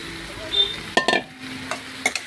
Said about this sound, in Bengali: দিয়ে এখন নাড়াচাড়া করব